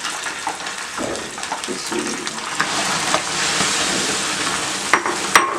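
Milk powder being stirred into ghee and water for khoya in a pan, a steady sizzling, bubbling wash with occasional utensil knocks near the end.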